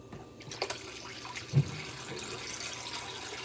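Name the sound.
plums being rinsed in water at a sink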